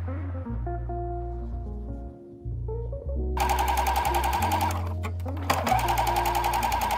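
A sewing machine understitches the facing along a garment neckline, its motor humming low at first, then running in a loud, steady rapid stitch with a brief pause before resuming close by.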